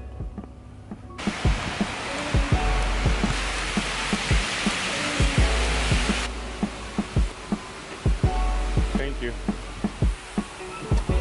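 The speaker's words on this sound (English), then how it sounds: "It's raining today." Steady rain falls close by, a dense continuous hiss with many sharp drop impacts ticking throughout.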